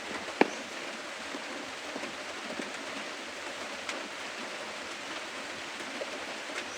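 Steady rain falls in a soft, even hiss with faint scattered drops and one sharp tap near the start, quiet and unbroken throughout, with no voices.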